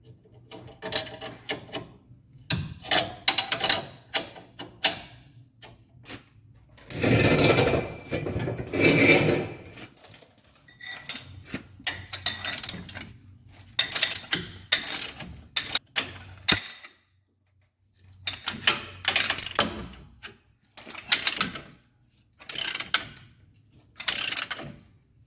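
A hand ratchet tightening U-bolts on a GMC Vandura van lift kit, clicking in quick bursts of strokes separated by short pauses, close and fairly loud, with no talking.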